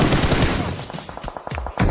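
Gunfire in the battle royale game BGMI, a quick run of rapid automatic shots and a few separate bangs, loud and close, ending in another burst.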